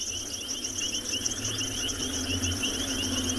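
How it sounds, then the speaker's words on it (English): Frogs call at night in the South African bush, a dense, continuous high trilling chorus heard over a low vehicle rumble, steady throughout with no talking. "And you can hear where we're driving now, the noise of all these frogs."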